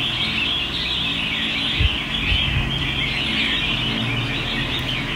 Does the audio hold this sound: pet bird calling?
yes